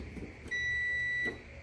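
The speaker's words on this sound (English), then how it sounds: "If it's beeping, so you're good with the start button" A Maytag, Whirlpool or Kenmore dryer control board gives one steady electronic beep, close and clear, lasting under a second after the start button is pressed, with quiet room noise before and after.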